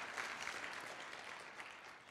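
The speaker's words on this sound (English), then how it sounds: "Give yourselves a round of applause for the amazing work that you do" Steady applause from a staff audience at a charter school forum: dense, even clapping that holds at a distant, moderate level for a couple of seconds before tapering slightly.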